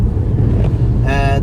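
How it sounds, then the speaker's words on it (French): Strong wind gusts buffet the microphone throughout, a loud continuous low rumble, with a brief tonal whine rising near the end. "La semaine est terminée avec les rafales de vent, je pense que vous devez l'entendre."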